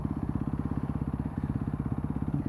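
A knock-off motorcycle engine idling steadily while the rider waits at a green light, its close, loud, regular pulsing firing beats running unbroken and alone throughout, with no voices.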